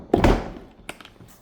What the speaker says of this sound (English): Comes in a nice hard case. Let's go ahead and get this thing open.